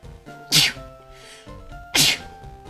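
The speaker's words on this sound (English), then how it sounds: "I'm gonna sneeze, I think" Two sharp human sneezes about a second and a half apart, loud and close, each a sudden burst with quiet breathing between them.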